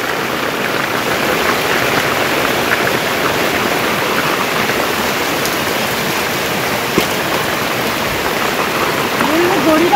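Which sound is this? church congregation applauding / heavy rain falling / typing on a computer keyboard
heavy rain falling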